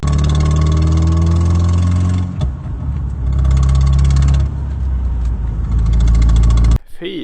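A Volvo 740 engine with an exhaust leak idles loudly and close, a steady low rumble with a rhythmic ticking pulse, briefly dipping midway and cutting off near the end; a voice speaks over part of it.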